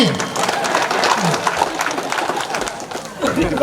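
An audience at a tourism-management training workshop claps hands together in a dense, steady patter lasting a few seconds, with voices chattering through it.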